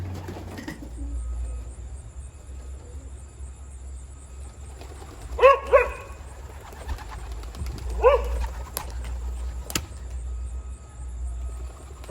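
Racing pigeons released from their loft, giving a couple of brief flurries of wing flaps and coos over a steady low outdoor rumble, fairly near but quiet.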